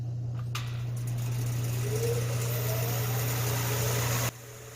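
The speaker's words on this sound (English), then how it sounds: "when I turn the lathe on, but it's going to be loud" A wood lathe spinning a wood sphere blank, a loud steady motor hum and whir with a brief rising whine, cutting off abruptly near the end.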